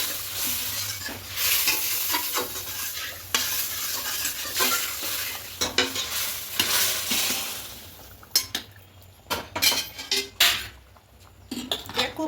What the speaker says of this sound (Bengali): ভালো করে মিশিয়ে নেব ভালো করে মিশিয়ে নিয়েছি